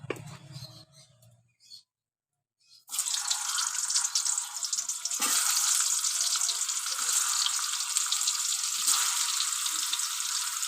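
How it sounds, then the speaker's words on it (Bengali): Chicken-stuffed pointed gourds drop into hot oil, and after a few quiet seconds a loud, steady sizzle of frying takes over and continues to the end. "এবার আমি ভেজে নেব।"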